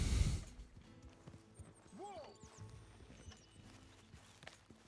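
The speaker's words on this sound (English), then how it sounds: "So many horses." Video game hooves clop at an unhurried pace, and a horse gives a brief whinny partway through, all over a quiet outdoor background.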